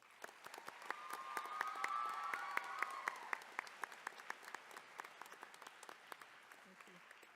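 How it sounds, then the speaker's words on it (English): An audience applauds nursing program staff at a nurse pinning ceremony with a burst of clapping that swells, then thins to scattered individual claps as it fades. "Let's give them a round of applause."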